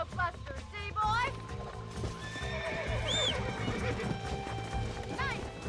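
Horse in the Red Dead Redemption video game on Xbox 360, repeated wavering neighs and whinnies over steady clip-clop hoofbeats, loud and near, with someone speaking over them.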